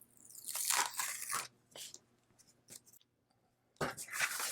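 Cut cork being peeled off a Cricut cutting mat, heard as close crackling, tearing bursts that come in uneven spurts with short quiet gaps, ending in a longer rip.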